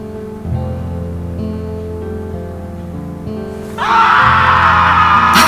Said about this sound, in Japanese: 叫んでる。